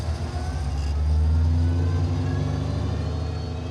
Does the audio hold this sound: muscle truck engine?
yes